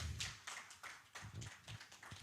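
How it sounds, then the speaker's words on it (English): Scattered audience clapping in a conference hall, a handful of distinct claps in an uneven rhythm, fairly faint and distant with a pause partway through. "Please let's keep clapping as he comes."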